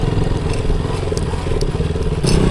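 A motorcycle engine revving and rumbling on a rough, dusty off-road track, loud and close with rattling and clatter over the uneven trail, steady throughout.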